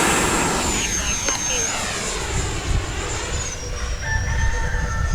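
An FMS Viper 70mm electric ducted-fan trainer jet flies on a windy day, its whining fan tone shifting in pitch as it passes, with steady wind rumble underneath.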